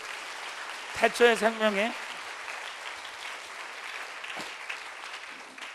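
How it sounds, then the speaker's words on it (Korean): A church congregation applauding during a sermon. A broad wash of clapping from many hands fills the room steadily, moderately loud and slightly distant, after a brief bit of spoken voice near the start. "자, 박수로 주님께 환영하겠습니다."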